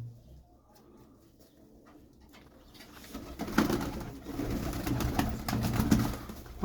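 Breeder pigeons coo repeatedly in low, throaty bursts, growing louder and busier partway through, with rustling and shuffling around them.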